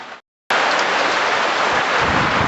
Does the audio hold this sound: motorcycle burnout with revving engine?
no